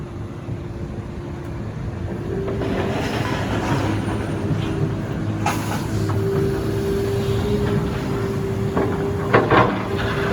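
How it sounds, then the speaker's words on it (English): A big scrapyard claw machine lifting a car drones with a steady engine hum and rumble, punctuated by a couple of sharp metallic clanks. "he's coming with a big ass claw machine, and he's gonna pick it up"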